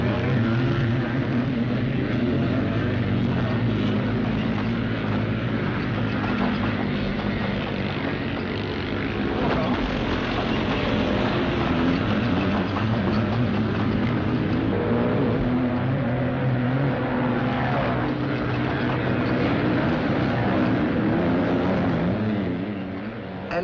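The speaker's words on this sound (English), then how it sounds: "Engines scream as they roar up the banks." Scrambling motorcycles race over a rough, bumpy 1.5-mile British course, their engines roaring and screaming together in a dense, continuous blare that stays loud throughout, from a 1967 event.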